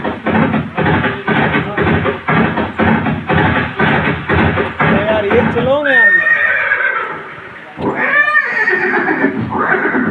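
Horse at Haldighati in Mewar, Rajasthan, whinnying loudly with descending neighs around the middle and again later, over rhythmic clip-clop hoofbeats and dramatic music, with voices speaking throughout.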